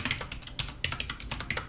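Rapid bursts of typing on a computer keyboard, crisp close key clicks coming in quick irregular runs with short pauses.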